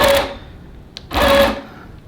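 A long arm quilting machine stitches a tote bag with pink thread, running in two close, loud bursts of rapid needle whirring separated by a brief pause and a small click.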